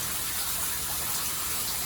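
Steady broadband rush of shower water running in a bathroom stall, continuous and fairly close, with no talk over it.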